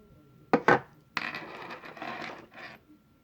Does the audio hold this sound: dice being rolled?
yes